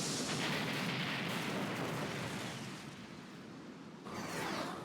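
A battleship in the anime MS IGLOO: Apocalypse 0079 is destroyed under artillery fire: a dense, roaring wall of explosive rumble and blast noise that stays loud throughout, dips briefly, then surges again near the end.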